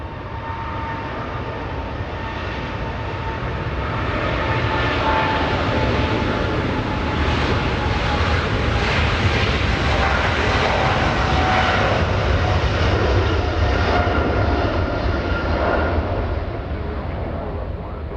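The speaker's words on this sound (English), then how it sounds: "Air France getting a move on." An Air France airliner taxis at LAX, its jet engines producing a continuous whining roar that swells toward the middle and stays loud and steady throughout.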